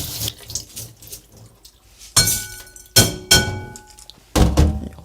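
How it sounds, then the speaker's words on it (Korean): Grains rinsed in a very fine-mesh sieve with boiled water for Korean five-grain rice, heard as clinking knocks against the bowl and sieve with brief watery splashes, close and moderately loud, with no talking. "요거를 끓은 물에 이렇게 한번 살짝 헹궈 주시면 됩니다."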